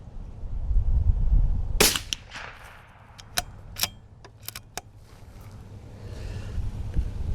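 A CZ 457 Varmint Precision Chassis rifle fires at a pendulum target outdoors, one sharp loud crack followed by several fainter clicks and metallic taps over wind noise.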